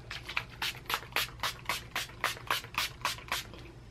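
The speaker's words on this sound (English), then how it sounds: "Elf setting spray." Rapid short bursts of Elf setting spray, about a dozen quick hissing pumps in an even rhythm, close and fairly quiet with no talking.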